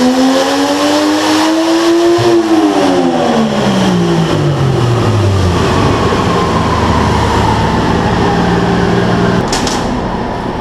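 A 1JZ VVTi engine in a Nissan 240SX on a dyno, boosted at 11 psi, revs loudly with its pitch climbing for about two seconds, then falls away into a long, sustained roar, close and alone.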